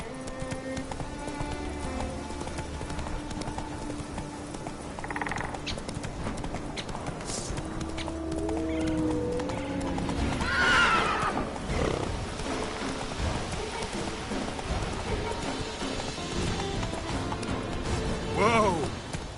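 Hooves of the horse Roach clip-clop at a gallop in The Witcher 3, a steady rhythmic pounding under ambient game noise, with people talking over it.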